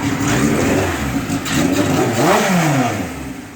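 A Kawasaki KZ1000 motorcycle engine runs just after starting, a loud, close, rumbling idle with a slight rise and fall in revs and no voices over it.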